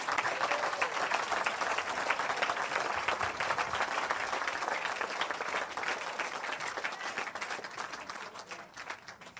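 Sustained applause from a church congregation acclaiming the Lord, a dense steady wash of clapping that holds for the whole stretch and eases slightly at the end.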